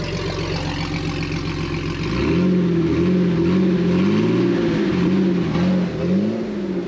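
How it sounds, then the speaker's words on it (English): An off-road trail vehicle with no muffler idles with a loud, rough, pulsing rumble, then revs up and holds a higher throbbing drone that rises and dips a few times, close and unmuffled, with no talk. "Rev it up a little."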